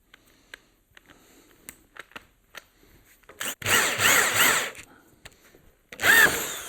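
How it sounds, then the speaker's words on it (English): A power drill bores pilot holes into wood for a beehive pallet, short bursts of whirring with clicks between, then two longer loud drilling runs close by. "So I like to drill a pilot hole to give it a bit of a chance."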